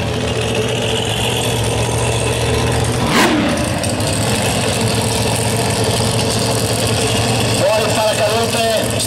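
A hill climb race car with an engine of roughly 10,000 cc at Rivanazzano revs loudly and steadily, with a brief surge partway through, beneath continuous noise and commentary.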